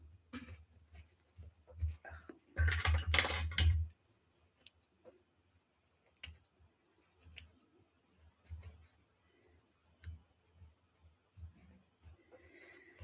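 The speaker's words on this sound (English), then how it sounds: "I'm going to rip out this gray stitching first because I can" Gray back-stitching being ripped out of a suit jacket seam, a dense burst of tearing thread lasting about a second, followed by scattered faint snips and clicks in a quiet room.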